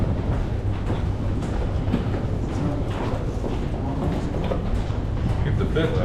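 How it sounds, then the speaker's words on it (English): A Paris metro subway train rumbles and rattles steadily throughout, with people talking nearby over the continuous rail noise. "Freaking Subway."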